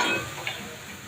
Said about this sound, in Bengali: আমার রসুনটা ভাজা ভাজা হয়ে গেছে